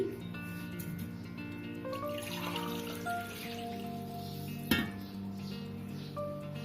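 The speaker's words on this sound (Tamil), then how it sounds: "அதுக்கப்புறம் அதுலேயே கொஞ்சம் தண்ணி ஆட் பண்ணி நான் ஊற்றுறேன்." Water is poured from a tumbler into a pot of milk and rice for a bread birinji rice dish in a home kitchen. The pouring is a soft, faint, continuous splash with a brief clink partway through.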